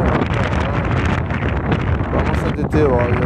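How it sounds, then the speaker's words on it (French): A strong gust of wind buffets the microphone outdoors during a metal-detecting outing, a loud continuous roar of rumbling wind noise, with a brief lull near the end. "Pour le vent les gars, on a pris une petite rafale"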